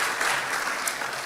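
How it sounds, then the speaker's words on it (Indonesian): An audience at a school graduation ceremony applauds, a dense, even wash of clapping from many hands filling the room without a break. "Boleh tepuk tangan untuk diri sendiri juga"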